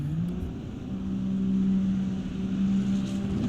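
A Ferrari 296 GT3 race car in a racing video game at the Nürburgring drones with a steady engine note, loud and close, holding a sustained pitch as the rear tires spin.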